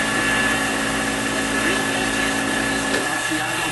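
A milling machine turns a 3/16 end mill at around 1000 RPM while cutting home switch brackets, a steady whirring motor hum with a faint tonal whine, and someone talking over it.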